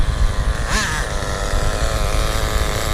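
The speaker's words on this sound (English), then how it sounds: "Listen to that idle. Brings it right down." HPI MT2 G3.0 nitro RC truck engine idling outdoors, with a loud, buzzy, steady drone up close and a brief rising whine early on.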